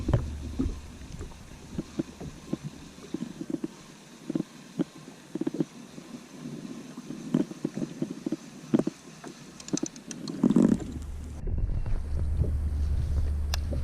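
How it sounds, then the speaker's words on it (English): Wind picks up over the water around a small fishing boat during redfish fishing, low gusty rumbles buffeting the microphone with scattered knocks and a steadier roar near the end. "Wind's starting to pick up a little bit."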